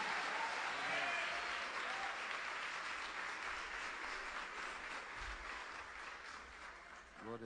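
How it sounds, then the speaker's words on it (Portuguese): A church congregation applauds with steady, sustained clapping, heard at a moderate distance and fairly quiet, with voices mixed faintly into the crowd noise. "Bem, receba o servo do Senhor animados, aplaudindo Jesus."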